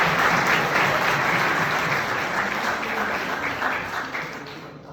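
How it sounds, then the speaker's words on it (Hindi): Audience applause during a lecture for students, a dense burst of many hands clapping together that stays loud and even throughout before tapering slightly at the end, with no speech over it. "इस पर ताली तो बजाइए।"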